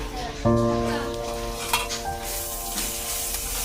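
Vegetables sizzle in hot oil in a pan for a Telugu home-style curry, a steady frying hiss with a sharp clink of a utensil near the start and light stirring scrapes through.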